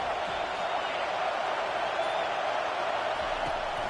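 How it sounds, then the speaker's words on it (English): A college football stadium crowd in a video game roars as a steady, dense wash of noise, loud and unbroken for the whole stretch. "Listen to this crowd just shaking the girders of this place"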